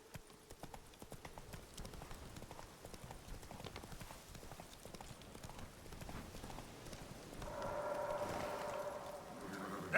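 Roach, Geralt's horse in The Witcher 3, gallops with a fast, rhythmic clatter of hooves, and the sound swells louder and fuller toward the end.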